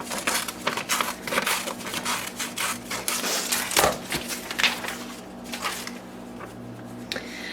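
Scissors rough-cutting a paper image for a tin can luminary craft, giving a steady run of close crisp snips and paper crinkles over a low background hum.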